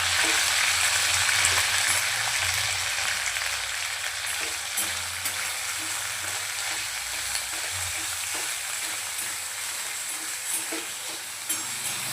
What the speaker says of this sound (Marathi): तेल छान गरम झालं आहे यामध्ये आता आपण आधी सर्वात आधी चिकन ॲड करूया